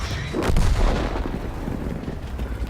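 A tank cannon firing in the World of Tanks video game, one heavy boom near the start whose rumble fades into continuous low battle noise.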